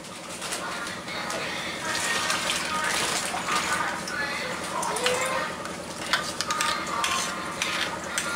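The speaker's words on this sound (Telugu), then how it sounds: "అండ్ ఇందులో వాటర్ కూడా మిక్స్ చేసుకుంటున్నాను." Garlic paste mixed with water stirred in a bowl for a home-made pest control spray, with repeated scraping and clinking of a spoon against the bowl while a person talks and birds call in the background.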